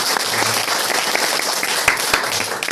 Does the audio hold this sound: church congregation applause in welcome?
yes